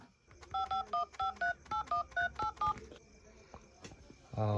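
Telephone keypad tones beep in a quick run of about eleven short dual-tone presses, close and clear, followed by a brief pause and a faint ring at the end.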